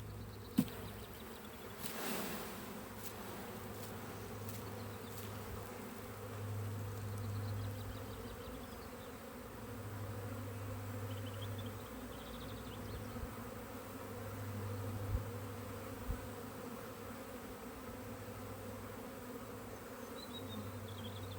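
A honeybee swarm being shaken into a top bar hive, with a soft, continuous buzzing. Low droning swells come and go, and there are a few faint knocks.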